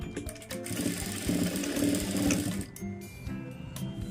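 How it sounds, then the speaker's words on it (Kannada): A sewing machine stitching along the folded hem edge of a lining blouse, a fast steady mechanical whirr running for a couple of seconds, then slowing and stopping into quieter clicks and handling; no speech. "ಮಡ್ಚ್ಕೊಂಡು ನೀಟಾಗಿ ಎಡ್ಜಿಗೆ ಸ್ಟಿಚ್ ಹಾಕೊಂಡು ಹೋಗಬೇಕು"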